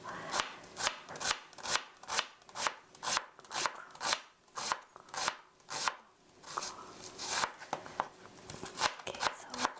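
Chives chopped finely on a board, the knife striking in a quick, steady run of crisp taps that pauses briefly and then resumes more loosely. The sound is close and clear, with no talking.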